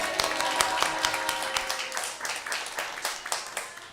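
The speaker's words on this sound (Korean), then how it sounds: "우리 할렐루야 하면서 박수 쳐드리겠습니다." A church congregation claps during a Korean sermon, quick overlapping claps that start amid some sustained musical tones and continue as a lively, moderately distant patter.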